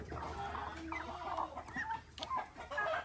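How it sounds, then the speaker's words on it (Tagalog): Chicken clucking in a farmyard where ducks are kept, several short clucks repeating at close range over a quiet background. "Ano yung ginagawa nitong manok na to?"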